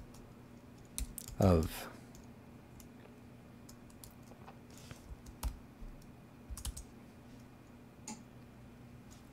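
Computer keyboard keys tap in scattered bursts and single clicks at close range under a faint steady hum, with one brief spoken word at the start.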